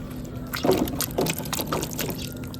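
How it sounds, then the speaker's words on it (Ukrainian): Corn mixed with water is poured from a fishing bait boat into the water in a steady liquid splash with a few surges, close and moderately loud. "Тепер даю трошки кукурузки з водою"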